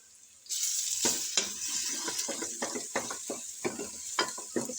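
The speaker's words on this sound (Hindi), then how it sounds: "इसको भी अच्छी तरह से बुनाई कर लेंगे" Onions with ginger garlic paste sautéing in a pan: a sudden sizzle as the paste goes in, then a steady frying hiss broken by repeated scraping strokes of a spoon stirring.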